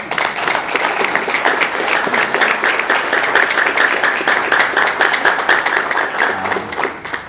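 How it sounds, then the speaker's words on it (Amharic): An audience claps loudly and continuously, a dense sustained wave of applause from a seminar crowd with no talk over it. "ቅልጥ ያለ ጭብጨባ"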